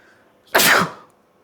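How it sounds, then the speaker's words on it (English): A single sharp sneeze bursts out close to the microphone indoors, sudden and loud, then trails off into quiet room tone. "I'm just having some sneezing."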